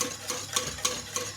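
Ingredients mixed in a bowl by hand with a whisk, giving rhythmic scraping strokes about every third of a second, close and moderately loud, with no voices.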